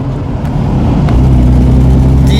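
A 1951 Nash Healey roadster convertible on the move, its engine giving a loud, steady low drone with a slight rise in revs, heard from inside the open car amid wind and road noise.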